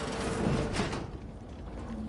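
A door opening in The Outer Worlds video game, a brief mechanical slide and clunk with a faint whirring hum afterward, heard alone.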